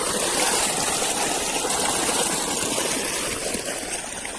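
Water pours steadily from an irrigation motor pump into a rice paddy field, a continuous, close rushing gush with a low mechanical hum beneath, unbroken for the whole stretch.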